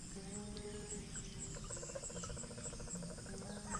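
A dense night chorus of many frogs croaks and trills beside a tilapia pond, overlapping pulsed calls layered with insect-like chirring, steady and fairly close with no talking.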